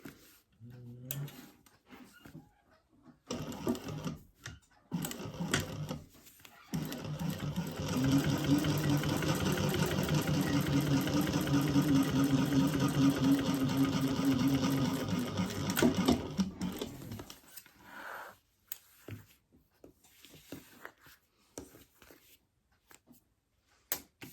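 A sewing machine top stitches the wing of a crossbody bag, a fast rhythmic mechanical whirr running steadily for about eight seconds between quieter handling noises and short pauses.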